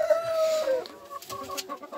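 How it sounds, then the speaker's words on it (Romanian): A rooster crows close by, followed by a few short clucks from hens, with no talking. "acestea toate sunt găini, în afară de cocoșul ăla"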